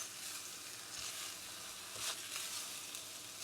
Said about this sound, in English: we're going to toast the rice along with the spices